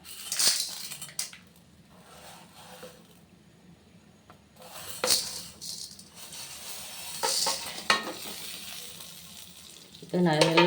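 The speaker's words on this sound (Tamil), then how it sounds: "நல்லா வறுத்துக்கலாம்." Spices sizzle and crackle in hot oil, with intermittent stirring and scraping bursts over a steady low frying hiss.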